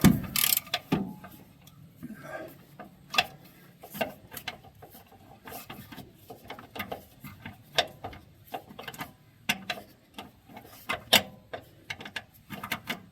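Intermittent ratchet clicks and metallic ticks as a wrench works the front lower bolt loose on a 2009 GMC motor mount, in short irregular bursts close up with no talking.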